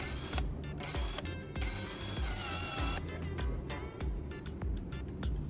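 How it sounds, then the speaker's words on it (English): A power drill whirs and grinds a graphite core against sandpaper, buzzing continuously with brief pauses and rattly scraping, near and loud. "I turn on the drill and press the core against sandpaper"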